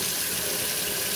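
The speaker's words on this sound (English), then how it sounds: "So then we're going back to hot water. We're just gonna put it along the edge a little more." Hot tap water runs steadily over a scored glass bottle during hot-and-cold thermal-stress bottle cutting, a continuous close, even rush with no pauses.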